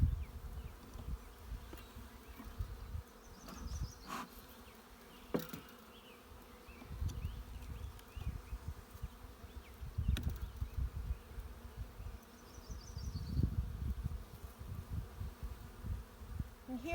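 Steady buzzing of many honey bees close by, a dense droning hum with occasional louder passes of individual bees.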